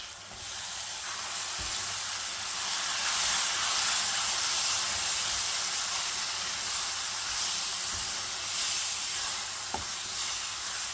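Tamarind paste hits a hot pan while seeni sambal, a sweet and spicy Sri Lankan onion relish, is cooking, producing a steady broadband sizzle and hiss that continues evenly, with a few small clicks and knocks.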